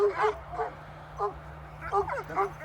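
Several short, high yappy dog barks in uneven bursts, fairly close, with a low steady hum underneath.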